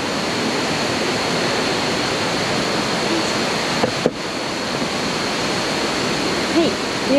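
Fukuroda Falls in Ibaraki, Japan, at night, a large waterfall, roars as a loud, dense, unbroken rush of water, with only a brief soft bump partway through.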